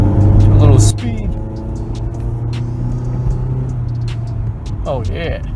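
A Ford Focus drives and accelerates, its engine hum rising and then settling into a steady drone as a voice talks over it.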